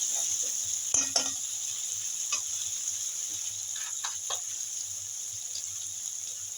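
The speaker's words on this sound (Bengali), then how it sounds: "সব মশলাগুলো ভালো করে নাড়াচাড়া করে নেব।" Spices for a Bengali small-fish curry are stirred in a pan, with a few faint scrapes and clinks over a steady sizzle-like hiss, close but quiet.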